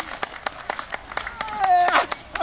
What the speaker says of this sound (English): that's clapping to get the thing up here